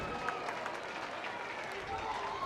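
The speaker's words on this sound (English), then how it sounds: "Schultz gets a nice round of applause from the Crush fans" Crush baseball fans at a state high school tournament game give steady applause as a player heads back to the dugout, with a commentator talking over the fairly faint, continuous crowd.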